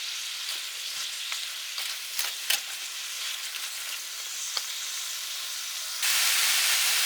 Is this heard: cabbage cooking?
yes